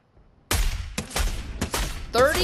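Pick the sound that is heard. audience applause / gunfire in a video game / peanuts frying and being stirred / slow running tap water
gunfire in a video game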